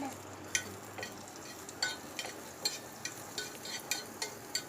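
Butter melts on a hot dosa tawa with a faint, soft sizzle, broken by a string of light scraping taps and clicks from a utensil spread irregularly across several seconds.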